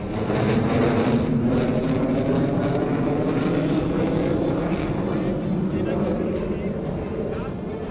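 Fighter jets such as Rafale, Mirage, Jaguar and Sukhoi landing and taking off from a 3.5 km airstrip on the Ganga Expressway at Shahjahanpur, a loud continuous engine roar lasting throughout, with a voice talking over it.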